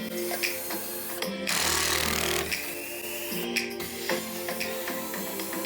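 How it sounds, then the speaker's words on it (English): A power screwdriver whirs in short bursts while removing 1/4-inch screws from the metal fan housing of an air conditioner, with clicks and rattles between runs, close up. "remove these 1/4 inch screws from this fan housing"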